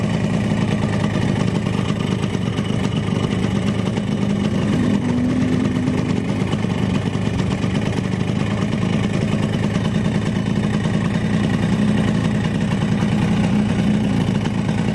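A 1997 Yamaha RX King two-stroke motorcycle idles steadily and close by during carburetor tuning. The engine keeps a constant, buzzing, rattly putter for the whole fifteen seconds and never revs up or falls away.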